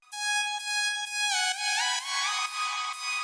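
A harsh, buzzy aggressive saw-wave synth layer in a progressive house arrangement plays sustained notes with pitch bends and sweeping filter movement, loud and alone with no talking.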